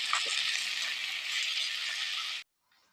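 Minced meat (keema) for a makhni daal keema handi sizzles loudly and steadily in a handi pot as it is fried and stirred. The frying runs continuously, then cuts off abruptly and leaves near silence.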